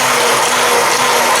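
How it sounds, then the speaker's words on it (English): A hand blender whirs steadily and loud, close at hand, as it lightly purees leftover Thanksgiving vegetables in a simmering pot, a continuous motor drone with no talk. "I'm just going to come in again here with my blender"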